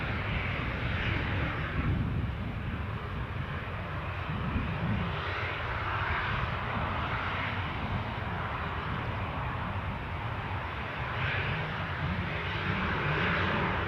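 An airplane on runway 07 at Newcastle airport, heard close up as a loud, sustained, broad engine roar that swells and holds without letting up, with no talk over it.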